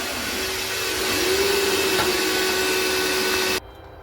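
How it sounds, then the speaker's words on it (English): A cordless vacuum cleaner drones steadily at close range with a constant whine for several seconds, then cuts out abruptly as its battery dies, leaving near silence. "the vacuum died after 5 minutes, just like it did when it was charged"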